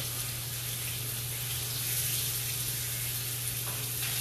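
Close, continuous sizzling of potatoes frying in a hot pan, a dense crackling hiss with a low steady hum underneath.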